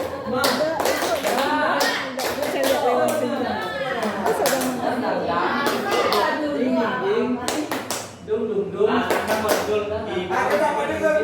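A group claps a rhythmic, patterned 'tepuk semangat' sequence of quick bursts and pauses at a school gathering, with voices chattering and calling out over the claps.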